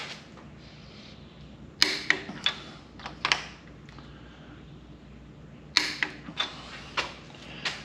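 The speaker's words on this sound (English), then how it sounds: "I will go ahead with my trusty torque wrench. Torque goes to 60 foot-pounds." Torque wrench tightening valvetrain bolts to 60 foot-pounds, a few sharp close clicks in two clusters separated by quiet, no talk.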